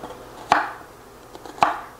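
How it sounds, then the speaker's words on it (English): Two sharp knife chops through an onion on a cutting board, spaced about a second apart, each a crisp close thud with a short crunchy tail; a softer tap sits between them. "We're going to be really giving them a nice chop"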